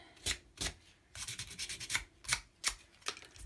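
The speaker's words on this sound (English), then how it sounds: "once you have all your edges sanded down and you like the way that it feels" Sandpaper rubs along the edges of a small wooden cube ornament in close, scratchy strokes, several separate swipes followed by a quicker run of short rasping passes, with no talking.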